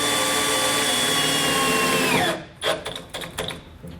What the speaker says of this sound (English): I'm going to get a self-tapping screw so I can secure my ring terminal to the frame